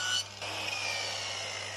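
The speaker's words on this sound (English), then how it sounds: "just cutting out sections here," Wood being cut into 6-inch lengths for the sides of marquee sign letters, a steady broadband rasping saw noise running continuously and close after a brief pause at the start.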